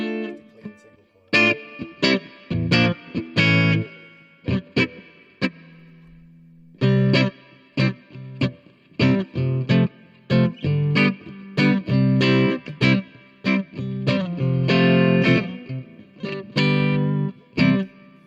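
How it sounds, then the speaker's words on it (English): Oakcaster 16 headless travel guitar played through a clean single-coil pickup, bright strummed chords and picked notes in choppy rhythmic bursts with short pauses, close and fairly loud, with a light echo-like effect on the tone. "And that's a single coil sound"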